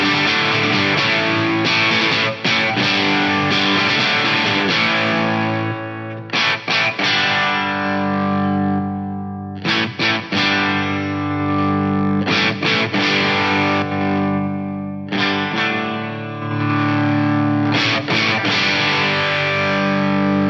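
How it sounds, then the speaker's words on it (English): Electric guitar through the crunch distortion effect of a Lexicon MPX G2 multi-effects unit, sustained overdriven chords played in phrases with brief gaps, loud and alone with no talking. "We've got fun stuff like the distortion and crunch. I want to hear crunch."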